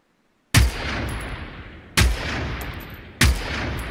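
Three loud, sharp gunshots from a weapon in the video game Generation Zero, each a sudden crack with a long echoing tail, spaced about a second and a half apart, with no talk.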